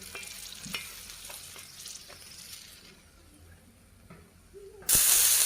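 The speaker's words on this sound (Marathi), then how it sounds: "थोडं तेल टाकायचं ह्याच्यात बघू शकता आपली मिरची छान भाजलेली आहे" Green chillies roast in a little oil in a pan for green tomato chutney: soft crackles and faint ticks for several seconds, then a sudden loud burst of sizzling near the end.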